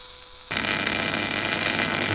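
A cheap welder starts arcing while welding a hook onto an excavator, breaking in abruptly after a quiet moment into a harsh, continuous crackling buzz, loud and close with no talking.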